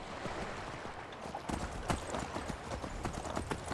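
Horse hooves clip-clop in a steady walking rhythm over a noisy outdoor ambience in Skyrim Special Edition.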